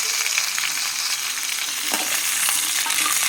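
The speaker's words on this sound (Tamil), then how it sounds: "எல்லா சைடும் கத்திரிக்காய் இந்த மாதிரி ஒன்று போல் வதங்கணும்." Eggplant and chopped vegetables sauté in a pan for a kuzhambu gravy, giving a steady, close, bright sizzle with a few soft stirring scrapes and no voices.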